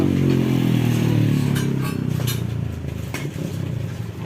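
A Kawasaki AR150 two-stroke motorcycle engine runs loud and close, its steady low rumble easing off partway through with some clattering mechanical noise on top.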